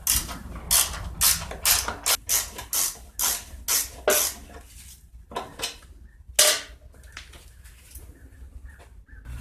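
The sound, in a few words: ratchet wrench removing bolts from Sears Craftsman mower cover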